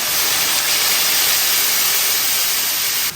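Warm water goes into a hot wok holding chicken pieces, braising sauce and broad bean paste, setting off a loud, steady roaring hiss of steam and sizzle that barely changes across the moment.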